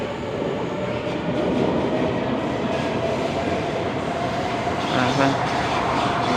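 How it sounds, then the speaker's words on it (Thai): A train departing a station rumbles along at close range with a steady, heavy roar and faint clattering of wheels, a brief squeal near the end. "รถไฟออกมาแล้ว"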